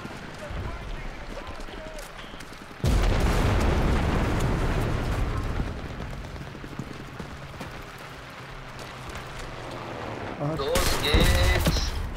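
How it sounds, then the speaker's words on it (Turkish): A mine detonates after being shot in the WWII shooter game Enlisted: a sudden loud, close blast erupts about three seconds in and rumbles on amid ongoing gunfire, with another burst of noise near the end and voices talking in the background. "Mayınlar var ya, mayına sıkınca patlıyor"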